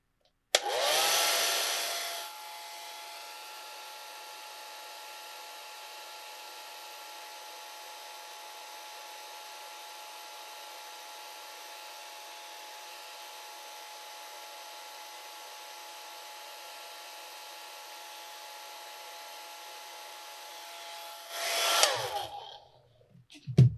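A hair dryer drying a watercolor painting of a pumpkin runs for about twenty seconds, starting with a loud blast, then settling into a steady whine with a faint tonal hum, and clicking off with some handling noise.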